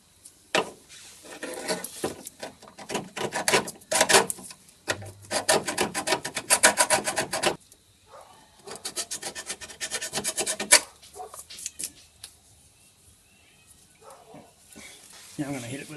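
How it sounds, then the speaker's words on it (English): A flat file rasps over a steel car front control arm, knocking off weld spatter during a Subaru control arm job, in bursts of close, gritty strokes with short pauses between them, loud and alone with no talk. "I'm going to give it a quick deburr with a flat file"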